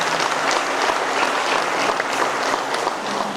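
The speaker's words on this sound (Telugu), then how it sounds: "బ్రహ్మశ్రీ పత్రిజీ గారికి గట్టిగా చప్పట్లు పెట్టుకుంటాం." Sustained, dense applause from a gathered audience at a PSSM Navanathapuram, Armoor anniversary event, honouring Brahmasri Patriji, a steady close roar of many hands clapping with no break.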